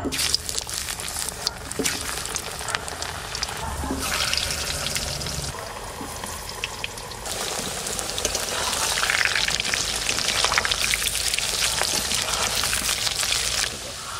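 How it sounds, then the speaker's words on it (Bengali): Potatoes fry in hot mustard oil in a kadai, producing a continuous close crackling sizzle that swells and settles over time, with occasional stirring sounds and no talking. "তেল গরম হয়ে গেছে, আমি আগে আলুগুলো ভেজে নেব।"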